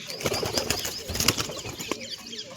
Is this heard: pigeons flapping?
yes